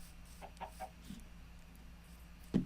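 A Minecraft chicken clucks in a few short, soft bursts, followed by a louder final cluck close by, over a quiet game background hum.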